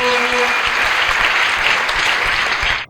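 Church congregation applauding loudly and steadily, a dense wash of clapping that holds throughout and cuts off abruptly at the end.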